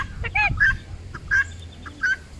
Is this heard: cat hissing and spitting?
no